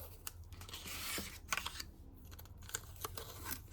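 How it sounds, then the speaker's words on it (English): Crafting tape is pulled from a roll and torn, a quiet, close ripping stretch followed by several short sharp snaps and crinkles, with no voices. "Again, taking out some tape."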